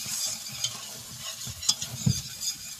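Broccoli cheese soup being stirred in a pot with a utensil, with soft scraping and light sizzling, close up with irregular stirring strokes and a few sharper clinks.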